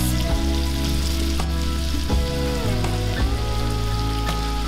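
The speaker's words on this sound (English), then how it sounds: "We're gonna saute this for like 30 seconds." White rice with paprika sautés in a pan, a dense, constant close-up sizzle with faint rattling stirs and a low background hum throughout.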